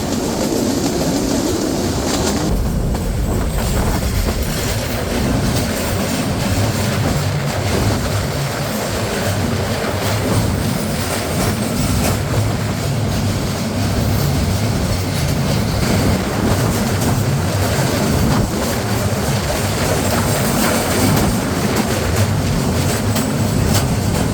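Shimanta Express (748) from Khulna running near Hardinge Bridge, a loud, steady rolling rumble that holds unbroken throughout with no voices.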